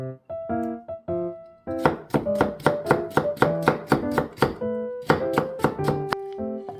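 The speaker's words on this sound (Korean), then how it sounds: "오이를 채 썰어 주세요." A knife julienning cucumber on a cutting board taps out quick, regular crisp chops in two bursts with a short pause between, close and clear, with faint tonal music underneath and no talking.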